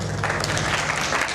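Audience applause for the jury members at a 2017 reader's meeting, a steady dense wash of clapping that runs loud throughout, with a faint low hum underneath.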